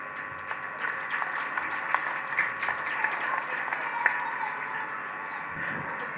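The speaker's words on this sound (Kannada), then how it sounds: "ಜೋರಾದ ಚಪ್ಪಾಳೆ ತಕ್ಕೋದ್ರ ಮೂಲಕ ಆತ್ಮೀಯವಂತಹ ಅಭಿನಂದನೆಯನ್ನು ಸಲ್ಲಿಸಬೇಕಾಗಿ" Parents and students applaud loudly at a government primary school's annual prize-giving event, a dense sustained burst of clapping from a large crowd.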